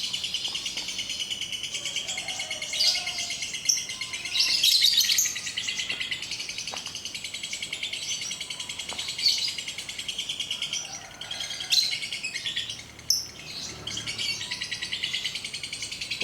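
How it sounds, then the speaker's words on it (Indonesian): Caged pet birds, including lovebirds, Asian pied starlings and white-eyes, sunned outdoors chirp in a continuous high, bright chatter. Overlapping tweets rise and fall with a few louder bursts, and occasional low voices sound faintly in the background. "Dekat itu burung."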